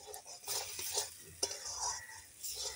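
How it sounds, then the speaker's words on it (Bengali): Green chilies stir-fried with spices in a pan, with uneven bursts of sizzle and scraping strokes from a spoon against the metal, close by and moderately loud, with no speech. "কাঁচা লঙ্কা দিয়ে ভালো করে আবার কষিয়ে নিই।"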